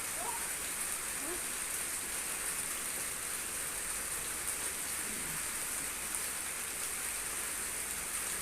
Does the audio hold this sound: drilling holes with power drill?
no